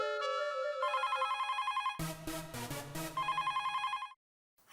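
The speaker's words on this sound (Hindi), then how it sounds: "ये लीजिए आपके लिए फोन है।" A telephone rings in a Taarak Mehta comedy scene with loud, repeating electronic trills, broken by a brief burst of other noise midway, then the ringing resumes before cutting to silence.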